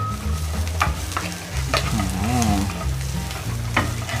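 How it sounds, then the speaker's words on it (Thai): Spring onion and coriander are stir-fried in hot oil, giving a steady close sizzle with repeated scraping and clanking from a spatula stirring the pan. "ผมจะใส่ ต้นหอมผักชีลงไปส่วนหนึ่งก่อนนะครับ ลงไปคั่วเขาด้วยให้โดนความร้อนหน่อย"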